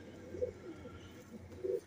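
A Sialkoti pigeon coos softly in two short low bursts with a quiet pause between them, heard alone against faint background noise.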